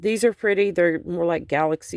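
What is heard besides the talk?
No distinct noise like a dog, phone or traffic.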